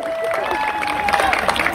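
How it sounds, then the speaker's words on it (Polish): A crowd at a STIHL Timbersports competition in Syców applauds and cheers a competitor, continuous clapping with a tonal voice or whistle over it. "Ogromne brawa, proszę Państwa!"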